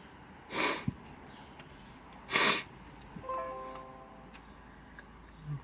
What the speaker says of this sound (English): Please pardon my sniffing.